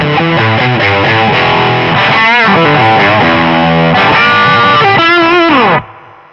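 An electric guitar played through a distortion pedal with the wah pedal switched off rings out in loud, sustained, overdriven notes and shifting chords, then cuts off abruptly near the end.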